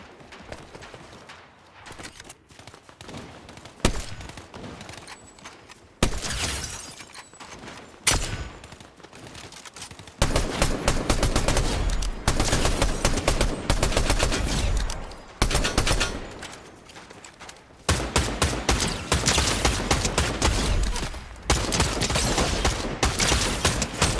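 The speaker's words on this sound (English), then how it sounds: "That's where I heard the shooting." Rapid gunfire from the video game Fortnite crackles in dense bursts and volleys, some pauses between them and then long sustained stretches of loud, close shots.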